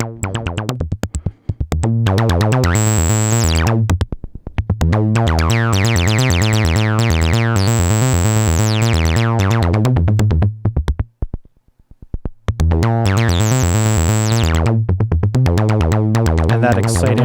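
Zephyr saw wave run through a Steady State Gate two-pole low pass filter, buzzing synth tones in repeating rhythmic phrases with the filter sweeping open and closed, loud and up close, with short pauses between passages.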